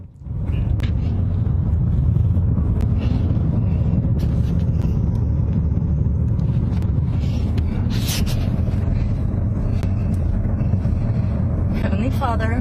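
A car driving through wildfire flames, a constant loud roaring rumble of engine and wind under a voice, with brief sharp crackles.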